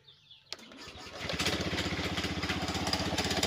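A motorcycle engine cranks and catches, then settles into a loud, steady rumbling idle with a slightly rough, pulsing rhythm.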